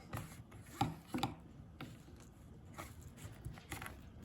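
A Kershaw Passage knife cutting open a cardboard care package box, giving a few faint, uneven scraping and slicing scratches with small knocks, quiet and close.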